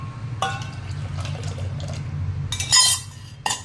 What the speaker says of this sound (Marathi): त्यामध्ये हवं तसं पाणी घालून घ्यायचं आहे आपण